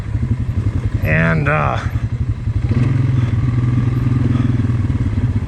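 Polaris Sportsman 570 SP ATV engine running steadily and engine braking on a winter hill trail, a continuous low loud drone close up with a brief rising whine, a voice talking over it.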